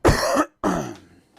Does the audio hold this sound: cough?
yes